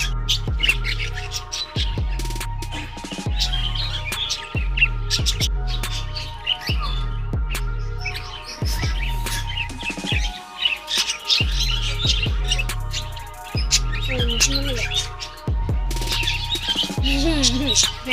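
Australian birds in a children's zoo aviary in Eilenburg, Germany, squawk and chirp loudly and close by, with harsh repeated calls and busy tweeting overlapping in a dense, continuous chorus.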